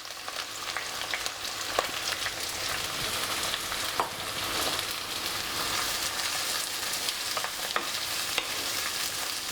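Onions, green chilies and curry leaves fry in hot oil with a steady soft sizzle, quiet and continuous, with occasional scrapes and clicks of stirring and no talking.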